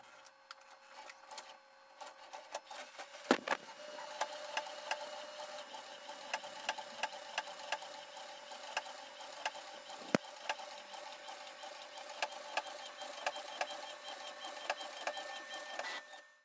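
Printer running a sublimation transfer print for a mug, with rapid mechanical ticking and clicking, a steady whirring carriage and a couple of sharper clunks, close and continuous.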